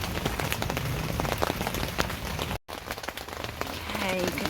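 Steady rain drums on a tarp stretched over a partly shaded garden during a storm. The dense, close patter runs throughout and breaks off for an instant midway.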